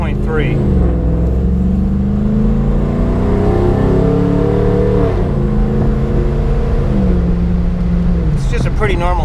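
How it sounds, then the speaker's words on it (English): A Jeep fitted with a 5.3 V8 engine conversion rumbles loud and close, its deep exhaust note swelling and falling through several revs as it pulls away, with a voice talking over it. "they want to hear these engines, what these V8 sound like"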